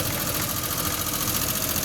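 Small kei car engine with a turbo just replaced idles steadily, oil burning off the block, giving a continuous close mechanical drone with light knocking and vibration throughout, no talking.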